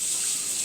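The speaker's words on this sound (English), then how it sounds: "I wash my hands before making the compound butter." Water runs steadily from a kitchen tap while hands are washed, a close, continuous hissing gush with no talk.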